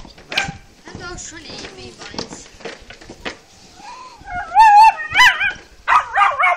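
Dogs bark and yelp in a rising, excited burst near the end, loud and close, after a stretch of clattering knocks and thuds.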